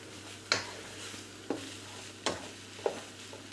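Garlic and spices are stirred in a sizzling frying pan, a spoon scraping the pan four times at a steady pace over a constant low hiss of frying, close and clear.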